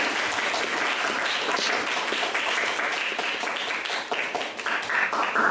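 Sustained applause from a classroom full of students, dense steady clapping that thins slightly toward the end.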